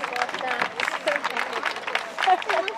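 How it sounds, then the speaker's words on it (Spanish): Crowd applause for a gaucho parade group at an anniversary procession in Bajo Hondo, a steady outdoor patter of clapping mixed with crowd murmur and voices from a gathered audience. "Fuerte el aplauso para todos sus integrantes."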